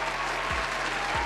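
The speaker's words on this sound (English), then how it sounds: "Give her a round of applause." Audience applause at a talk-show taping, a steady dense wash of many hands clapping close and loud for the whole short stretch, with no one speaking.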